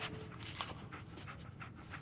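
Dogmeat, the companion dog in Fallout 4, pants rapidly and steadily up close, with soft breathy rhythm over low game ambience.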